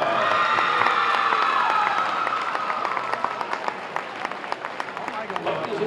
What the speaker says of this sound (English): another round of applause for our 7 seniors this evening